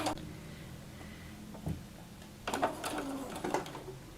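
A sewing machine stitches along the sides of a quilted tote purse pocket in short, uneven runs, quiet at first and then busier and closer toward the end, with no talking.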